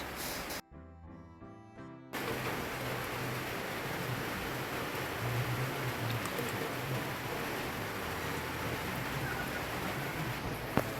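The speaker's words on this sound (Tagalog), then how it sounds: "Grabe malakas ang ulan." Heavy rain pours down steadily in a broadband hiss, loud and close throughout after a brief dropout near the start, with no talk over it.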